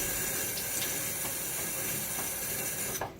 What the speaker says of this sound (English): So, splash of water.